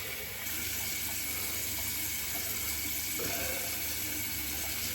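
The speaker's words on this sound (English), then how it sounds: "Now I'm going to rinse with cool water" Cool tap water runs steadily from a bathroom faucet into a sink for a shave rinse, a constant close hiss with faint splashing throughout.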